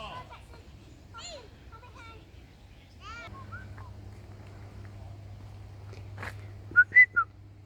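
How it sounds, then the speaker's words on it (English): A person whistles as a signal on a walk through a nature reserve. Thin tonal whistles stand out over quiet outdoor ambience, and a few short, louder whistle bursts come near the end. "I just whistle at him."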